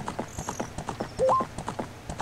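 Rhythmic clip-clop of horse hooves while riding at night in The Legend of Zelda: Ocarina of Time, a steady quick gait of light regular thuds with a brief rising game chime in the middle, no talking.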